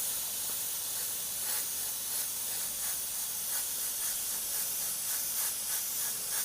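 An airbrush sprays a light pass of paint from about four inches away on minimal trigger, giving a steady, close, continuous airy hiss with slight pulsing that carries unbroken throughout.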